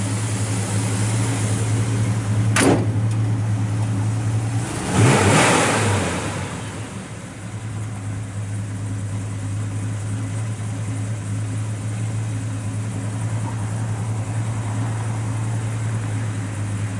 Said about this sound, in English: Sounds really good out the exhaust.